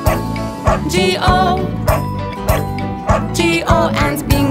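Sung children's Bingo nursery rhyme about a farmer's dog, with a singer's voice playing over a bouncy beat and short bark-like bursts, so the barking may be a voice imitating a dog.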